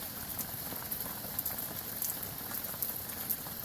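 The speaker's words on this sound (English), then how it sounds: "pouring rain out there. Lovely Oregon rain." Heavy Oregon rain pours outside at night, a dense steady hiss with scattered drop patters spread across the whole stretch, moderately faint and with no voices.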